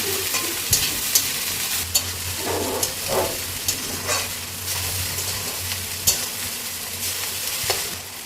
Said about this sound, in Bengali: ভাত দিয়ে দিয়ে নাড়িয়ে নেব